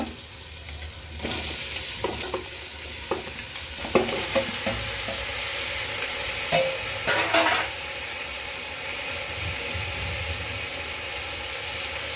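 Cleaned, turmeric-washed quail pieces drop into a hot pan for a kaadai kuzhambu, setting off a steady broadband sizzle with a few clattering stirs and scrapes early on, continuing alone and fairly loud without talk.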